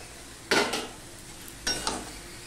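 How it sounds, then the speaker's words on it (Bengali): Fried potatoes and okra are stirred into a sizzling spice masala in a pan, with two brief, close scraping strokes of a spatula over a low background sizzle. "এবার এর মধ্যে আমি এই ভেজে রাখা আলু আর ভেন্ডি দিয়ে দিলাম।"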